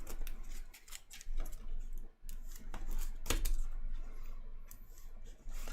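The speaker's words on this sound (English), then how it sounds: "Time to shuffle things up." Playing cards from a DC deck-building game being shuffled at the table: a run of quick, crisp clicking and riffling bursts with brief pauses, fairly close and with no talk over it.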